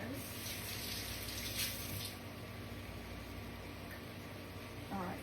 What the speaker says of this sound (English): And rinse my hands.